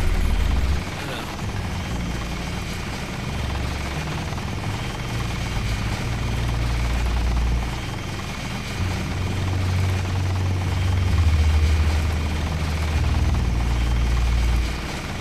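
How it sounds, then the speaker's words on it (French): A helicopter engine drones in Deus Ex, a continuous low rumble with steady rotor throb that swells slightly toward the end, heard alone without speech. "Est-ce que je peux faire exploser l'hélicoptère?"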